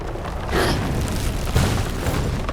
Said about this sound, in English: Heat-seeking missiles.